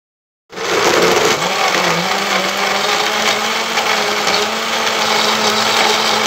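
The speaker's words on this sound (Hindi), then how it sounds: "अब तमाम अज्जा को ब्लेंडर जग में डाल लेते हैं और अच्छी तरह ब्लेंड कर लेंगे।" Electric blender whirs loudly as it blends a chocolate banana milkshake with ice, switching on abruptly and then running as a steady, dense roar with a slight change in pitch as the mix churns.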